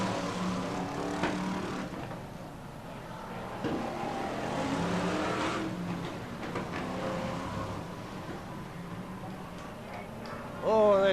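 BriSCA Formula 1 stock cars racing around an oval circuit during a Grand Final at Skegness, a distant engine drone with ticking and rattling, heard faintly beneath a commentator's voice.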